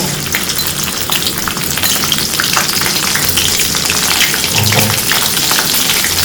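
Red curry paste frying hard in hot oil for a Thai pork and long-bean stir-fry, a loud, dense, continuous sizzle with crackling spatter and occasional stirring throughout.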